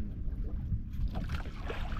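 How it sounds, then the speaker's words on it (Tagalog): A small boat on open water, heard as a low, rumbling drone with wind buffeting the microphone, fairly close and steady for a couple of seconds. "Oh, may bangka mga tropa."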